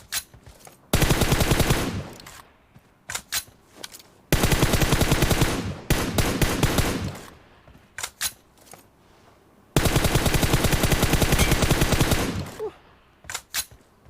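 Automatic gunfire in a shooter video game: three long, loud rapid-fire bursts separated by scattered single and double shots, close and dominant with no talk over them.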